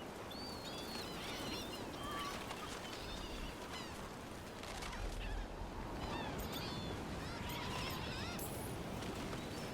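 Birds in Dragon Age: The Veilguard honk and squawk repeatedly as a noisy flock, their calls overlapping amid a steady bed of background noise.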